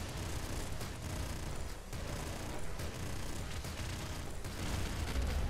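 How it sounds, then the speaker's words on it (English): Dense, continuous roar of rapid gunfire and explosions from a slash shotgun in the game Nuclear Throne, loud and unbroken across the whole stretch with no voice. "Slash shotgun's pretty goddamn good."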